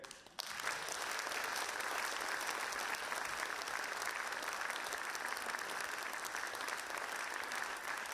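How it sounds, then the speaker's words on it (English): Lecture audience applauding the final speaker, Jerry Afriyie, at a festival event; after a brief quiet moment a dense round of clapping bursts in and continues evenly, soft and somewhat distant. "Please give a very warm round of applause to our final speaker of the day"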